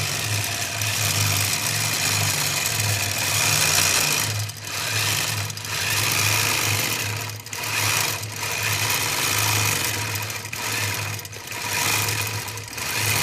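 A quilting machine's motor hums steadily while stitching, speeding and slowing in waves with short pauses, loud and close with no voices.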